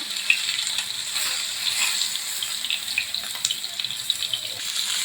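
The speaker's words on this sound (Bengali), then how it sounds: "পাতুরিগুলো এইভাবে ভেজে নেব" Ilish fish paturi wrapped in pumpkin leaves frying in hot oil, giving a steady bright sizzle and crackle at moderate loudness throughout, with scattered small pops.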